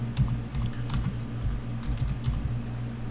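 Fast, irregular keystrokes on a computer keyboard while an email address is entered, light clicks close up against a faint background hum.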